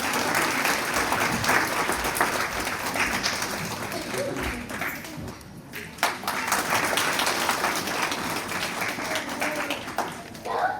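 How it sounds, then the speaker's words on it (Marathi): A school Red Cross annual day audience applauds a prize announcement with dense, sustained clapping that goes on for about ten seconds and briefly dips midway. "सगळ्यांनी जोरदार टाळ्या वाजवायच्या आहेत."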